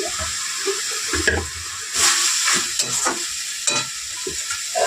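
Masala with whole black pepper fries in a pan for chicken curry, giving a continuous sizzle broken by loud scraping stirs and clanks of a utensil against the pan.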